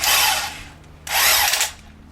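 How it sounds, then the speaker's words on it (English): An impact wrench spins U-bolt nuts off the rear axle of a Ford Bronco, giving two loud, close whirring bursts of about half a second each, separated by a short pause. "you're going to be spinning it off with this"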